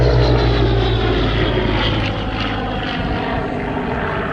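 A Supermarine Spitfire Mark V's piston engine drones loudly at an airshow, a close, powerful propeller roar with a deep throbbing tone that eases slightly as it passes, with no voices.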